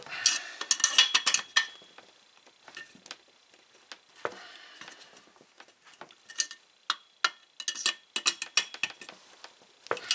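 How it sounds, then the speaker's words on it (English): Small metal clicks and ratcheting taps from a wrench tightening the front muffler brace bolt on a Husqvarna 365 chainsaw, coming in irregular close bursts with quiet gaps between. "Just get this torqued down."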